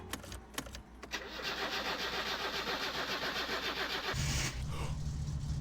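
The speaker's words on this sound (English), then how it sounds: "I filled up the fuel tank with my jerry can and started her up." A car engine in the video game My Summer Car, refuelled from a jerry can, cranks and catches, then runs at a steady mid-pitched idle with a loud, continuous rumble before a brief surge near the end.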